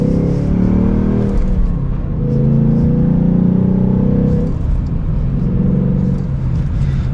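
A 2022 Ford Mustang GT coupe with a 6-speed manual accelerates hard from inside the cabin, its V8 rumble climbing through a gear, dropping briefly at a shift, then pulling up again, loud and steady throughout.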